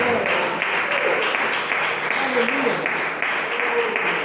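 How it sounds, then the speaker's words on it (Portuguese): A church congregation claps in praise during a worship service, a steady, continuous wash of hand claps held at one level, with voices speaking and singing over it. "Pode louvar Jesus com as palmas"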